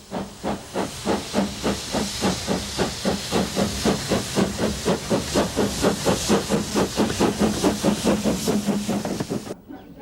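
A steam train on the Isle of Wight Steam Railway at Havenstreet chuffs in rapid, regular hissing bursts, loud and close, keeping an even rhythm before cutting off abruptly.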